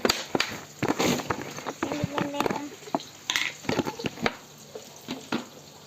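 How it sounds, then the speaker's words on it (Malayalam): Onions frying in a pan in a home kitchen, with irregular clattering stirs and scrapes over a low sizzle, close and fairly quiet, and some voices in the background. "ഇന്നത്തെ സ്പെഷ്യൽ ആട്ടാ ഉള്ളി വറുത്തത്"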